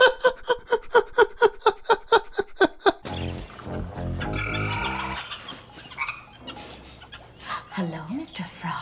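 A frog croaks in a steady series of about a dozen evenly spaced, resonant calls, fairly close and clear, before the sound gives way to a busier mix of voices and music-like tones.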